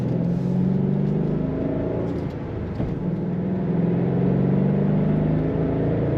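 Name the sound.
2009 Ford Mustang Bullitt engine revving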